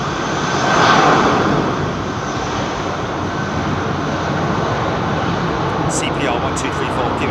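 A Boeing 757 jet departing London Heathrow, a steady broadband engine roar that swells slightly early on and holds loud throughout, with a voice talking over it.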